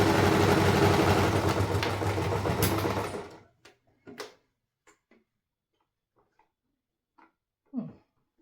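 A sewing machine stitching a kitchen scarf runs steadily and fairly loud for about three seconds, then stops, followed by a few scattered soft clicks and knocks.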